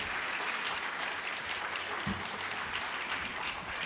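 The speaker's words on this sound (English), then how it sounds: "Another round of applause for all of them." An audience claps for a kids' folk band performance, steady continuous applause at moderate distance, fairly soft, with no break through the clip.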